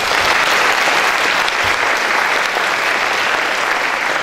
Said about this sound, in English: Let's give Ms. Franks a big round of applause